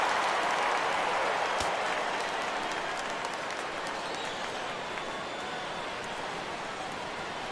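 Video-game baseball crowd noise from MLB The Show during a Yankees vs Astros game, a steady loud roar of cheering and applause that rises at the start and then settles slightly, continuous throughout with no clear talk.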